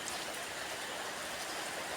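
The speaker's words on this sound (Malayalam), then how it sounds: "എന്തായാലും മഴ എല്ലാവരും ആസ്വദിക്കുന്നുണ്ട്." Steady rain falls in a dense, even hiss that carries through the whole stretch with no pauses and no voices.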